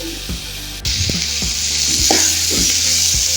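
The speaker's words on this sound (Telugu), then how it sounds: "సో ఆలు యాడ్ చేసుకుని ఒకసారి ఫ్రై చేసుకోవాలి కలిపేసుకుని" Potatoes and capsicum fry together in a pan for a capsicum and aloo masala curry, with a steady sizzle and several scraping stirs of a spoon at intervals.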